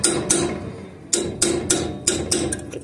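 A steel chisel struck repeatedly with a hammer to knock off the small front hub cap on a trailer wheel during an electric brake job. About seven sharp, close metallic blows come in an uneven rhythm, with no talking.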